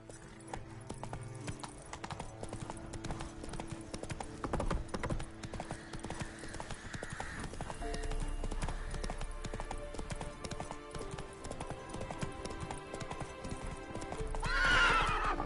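Horse galloping in The Witcher 3, a steady rhythmic clip-clop of hooves throughout, with a whinny near the end.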